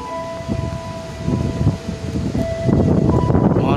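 A KRL commuter train pulls into Matraman station in the rain, its rumble and rushing noise building over the full stretch, with a faint high tonal whine on top.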